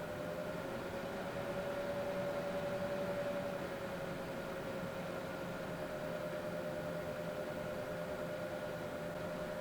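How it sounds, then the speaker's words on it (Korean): Steady low hum and whir of an EVGA CLC280 liquid cooler fan at its lowest speed, with a faint tonal bearing whine running throughout; continuous, quiet and close, with no speech. "이게 팬 소리 시끄러운 것보다는 베어링 소리라고 해야 되나요?"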